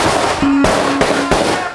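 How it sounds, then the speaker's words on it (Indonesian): Firecrackers pop at a circumcision celebration in Bandung regency, three or four sharp, loud cracks in quick succession over a noisy crowd, with a brief tonal hum between blasts. "Acara dimulai dengan menyalakan petasan."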